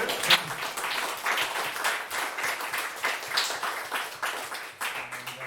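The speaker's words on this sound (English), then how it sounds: "let's give one more round of applause to Stefano" A meetup crowd at a tech talk night gives a speaker another round of applause, a moderate, fairly close burst of many hands clapping that swells and dips before tapering off near the end.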